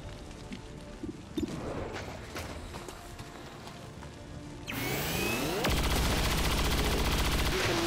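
Gunfire in the XCOM 2: War of the Chosen video game, a steady busy stretch of game combat sounds that swells into a loud, dense burst of shots and blasts in the second half.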